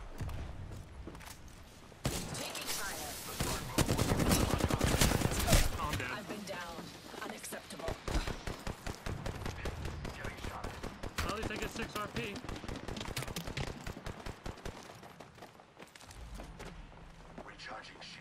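Rapid gunfire from the battle royale game Apex Legends rattles in sustained bursts for most of the stretch, loud and close, with heavier thuds early on and voices speaking over it.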